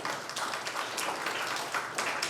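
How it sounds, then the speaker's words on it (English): A round of applause from an audience at a leadership event, uneven claps rising and falling in a quick patter, moderately loud with no speech over it. "Can we give him a big round of applause?"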